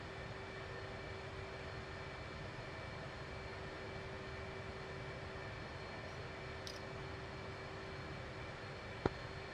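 An F/A-18C jet taxiing in the DCS flight simulator, a steady distant engine drone with a constant whine, low and even throughout, ending with one brief click.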